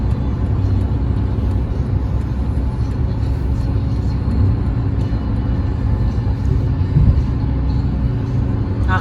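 A steady, loud interior rumble from a car cruising along a highway while changing lanes. Road and engine noise stays constant throughout, with no clear talk over it.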